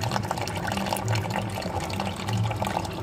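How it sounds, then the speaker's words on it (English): Water drains from the drain plug of a Mazda RX8 13B rotary engine during removal, making a steady, close-up trickling pour that continues unbroken throughout. "That's how you can drain the water on it."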